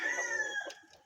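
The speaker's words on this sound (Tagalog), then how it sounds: "medyo mabait na to at masipag na rin manilaok" A captive wild red junglefowl (labuyo) rooster crows close by, a single bright drawn-out call that fades into brief faint clucks.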